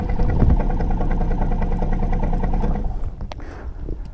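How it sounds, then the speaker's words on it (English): A microlight aircraft engine is cranked briefly with the switch off, giving a close, loud, rhythmic mechanical churning for about three seconds that then dies away into quieter clicks. "I'll give it a short crank so that the oil is distributed through the engine."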